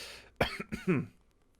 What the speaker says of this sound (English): we've got a coughing fit